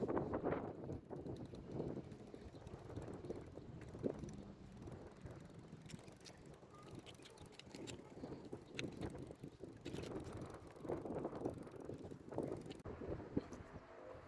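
Steady wind buffets the microphone during a bike ride uphill, a rough, gusting rumble with some faint clatter mixed in.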